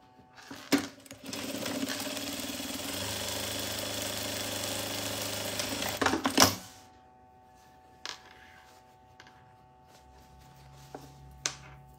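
A sewing machine topstitches fabric for a small zippered pouch in one steady run of about five seconds. It starts and stops with clicks, then a few faint handling sounds follow in a quiet room.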